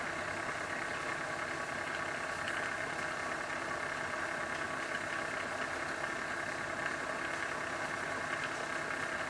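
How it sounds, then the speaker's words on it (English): Electric motor running on a bench and spinning up, a steady mid-pitched whirring hum with a faint rising whine, fairly quiet and continuous, with no voices. "the motor's starting to pick up speed as well"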